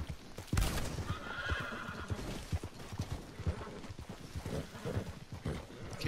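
A horse in the video game Red Dead Redemption 2 whinnies sharply at the start, followed by hoof clops and busy game noise.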